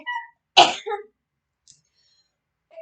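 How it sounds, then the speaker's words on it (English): A single sharp, close sneeze bursting out of near silence, followed by a softer trailing sound and a few faint small noises. "made me sneeze."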